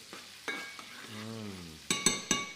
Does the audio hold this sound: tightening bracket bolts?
no